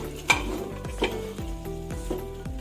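Boiled white chickpeas with chillies added, stirred in a pot while frying, with a soft sizzle under repeated scraping strokes of a spoon against the pot about every half second.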